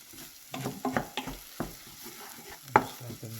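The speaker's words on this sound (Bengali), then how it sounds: "তেলটা ছেড়ে দিচ্ছে, ততক্ষণ আমরা এটাকে কষাবো" Spice paste sautéing in oil in a pan for ghugni, stirred with a utensil that scrapes and knocks at uneven intervals over a soft, low sizzle, with one sharp clack near the end.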